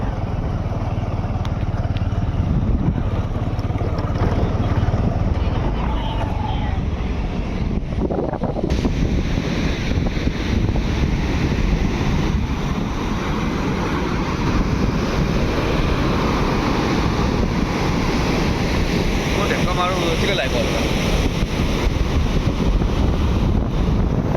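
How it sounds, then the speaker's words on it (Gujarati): Canal water rushes past in a continuous, heavy roar, heavily buffeted by wind across the microphone for the whole stretch. "કેનાલનું પાણી કેવું જાય છે તમે જોયું પાછળ"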